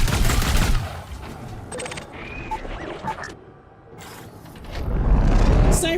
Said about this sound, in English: I'm just gonna keep shooting until it opens